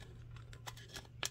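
Small cutting shears snip through an empty aluminum can, giving a few sharp, brief metallic clips and crinkles close by over a low steady hum.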